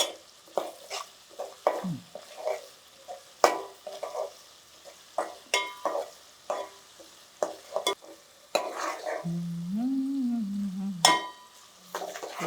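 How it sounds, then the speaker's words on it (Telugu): Onions sprinkled with salt fry in a pan while a utensil scrapes and taps against the metal in irregular strokes, close up, under a low sizzle, with a brief tonal whine near the end. "ఉల్లిపాయలు తొందరగా వేగాలంటే ఏం చేద్దామని చెప్పాను, కొంచెం ఉప్పు వేస్తా, తొందరగా వేగుతాయి."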